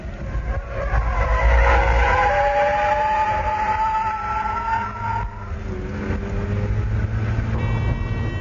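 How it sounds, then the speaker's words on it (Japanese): A stock Mazda RX-7 FC turbo in a braking drift, its engine note rising and falling in loud sweeping tones with shifting pitch over several seconds, followed by a steadier drone. "ブレーキングを残してテールを出す。 これがブレーキングドリフトだ。"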